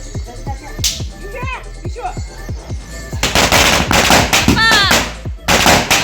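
A long string of firecrackers (a ladi) lit outdoors at a village Bhaubeej Diwali gathering crackles in fast machine-gun bursts, loud and near, with voices heard between and under the popping.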